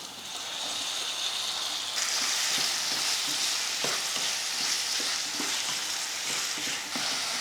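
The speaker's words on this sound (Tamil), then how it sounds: "தக்காளி பாருங்கள் நல்லா வதங்கிடுச்சு" Tomatoes and onions sautéed in a pan, a continuous hissing sizzle that grows louder after a moment, broken by regular stirring scrapes and taps, with no talk.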